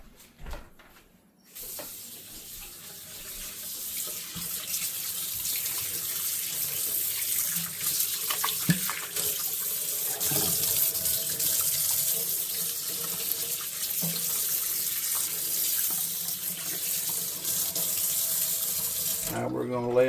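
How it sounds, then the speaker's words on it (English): Rainbow trout fillets rinsed under a running kitchen tap, a steady broadband rush of water splashing onto the fish and into the sink, starting after a brief quiet moment and continuing loudly and evenly to the end. "we're going to wash these off"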